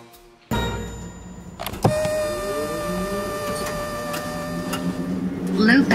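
An electric vehicle gives off a steady high whine with rising tonal sweeps, continuous and fairly close after a sharp start, with a clunk near the two-second mark and noise building toward the end.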